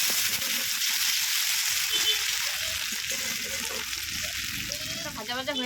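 Chopped tomato hitting hot oil seasoned with dried chilli, bay leaf and cumin, a steady close hiss of frying with soft stirring scrapes and a faint voice near the end.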